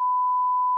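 A single steady electronic beep, a pure tone holding for under a second, clean and alone.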